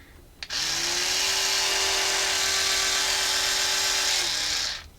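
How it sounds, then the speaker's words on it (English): An Oral-B electric toothbrush switches on and buzzes loudly and steadily for about four seconds with a high whine, then cuts off. "I've got my current toothbrush, which is this Oral-B one here."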